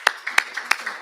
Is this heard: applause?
yes